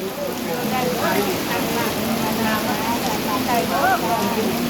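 Heavy rain at a temple hisses loudly and continuously as someone speaks under the downpour; elephants shelter nearby.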